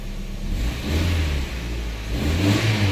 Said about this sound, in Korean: 시동 걸었습니다